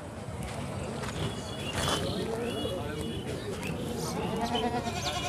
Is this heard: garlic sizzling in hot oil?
no